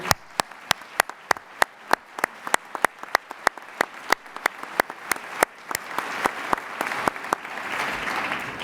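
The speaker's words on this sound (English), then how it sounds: "Would you give them a round of applause?" Applause for county supervisors and a mayor-elect at a casino forum in Saratoga. It opens as sparse, sharp individual claps spaced about a third of a second apart and swells into dense, steady clapping from a seated audience by the end.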